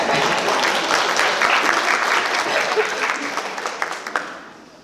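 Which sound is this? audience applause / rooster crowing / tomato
audience applause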